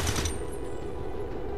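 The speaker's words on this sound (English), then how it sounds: "Hostile fire on my position" Gunfire in XCOM 2, opening with a loud, dense burst of shots that quickly settles into a steady, rumbling wash of battle noise.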